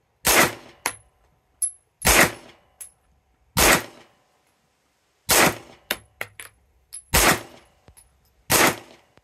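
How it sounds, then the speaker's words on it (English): An AR-15 rifle fires a string of sharp, loud, close shots in irregular pairs and singles, with bright metallic clinks of ejected casings between the reports. "So here is Elsa's dad shooting the AR-15"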